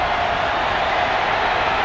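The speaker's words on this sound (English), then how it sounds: "Now you hear the crowd." Steady roar of a stadium crowd at a Florida State college football game, a broad, loud wash of cheering and noise holding constant throughout.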